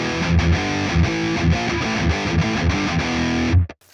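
Electric guitar played through a Hotone Ampero Mini multi-effects unit with chorus, delay and reverb, a loud, full rhythmic passage of repeated strummed chords that stops abruptly near the end.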